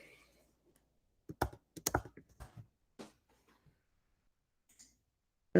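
A computer mouse clicking while colouring a line drawing in Illustrator: a quick cluster of sharp, close clicks, then a few scattered single clicks amid quiet.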